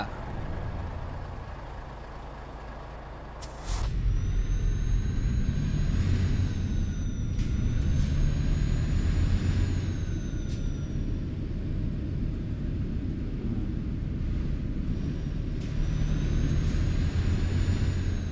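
Big truck in Euro Truck Simulator 2 rumbling past with a loud, steady low engine drone and a high whine, starting abruptly and sustained close by.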